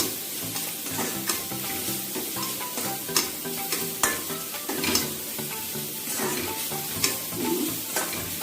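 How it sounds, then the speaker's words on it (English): Cabbage and carrots for healthy momo filling being stirred and tossed in a hot pan, a steady sizzle with repeated scraping strokes of the spoon throughout, close up and with no talking. "Then I am adding the cabbage, and then I will mix them properly."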